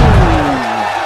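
Loud wrestling-event crowd roaring and cheering during an elimination triple threat women's match, a dense wash of noise with a sliding tone cutting through, fading slightly after the first half second.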